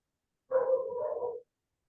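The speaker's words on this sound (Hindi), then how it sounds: "तुम्हारा कुत्ता भौंक रहा है" A dog barks in a single burst of close, fairly loud barking lasting about a second, alone without talk, in a home setting.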